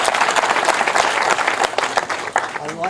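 Applause fills a trophy presentation at the 2006 Oxford Regatta. A crowd claps loudly and steadily throughout, heard close, with faint voices mixed into the clapping.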